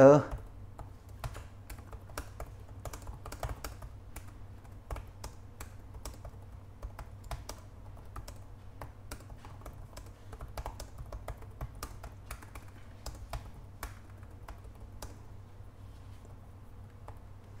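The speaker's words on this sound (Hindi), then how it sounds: "इस कीबोर्ड में टाइप करने से बहुत ज़्यादा टेक्टाइल फीलिंग दे रहा है" Typing on a Lenovo Flex 5 convertible laptop keyboard with an Intel Core i5 11th Gen, a continuous stream of soft, quick key clicks at an uneven rhythm, heard close and fairly quiet.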